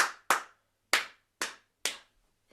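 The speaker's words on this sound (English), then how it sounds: "I'll play it, you repeat it. Just claps for now." Five sharp hand claps ring out in an uneven rhythm, two quick claps followed by three evenly spaced ones, close and crisp with short decays and no talking.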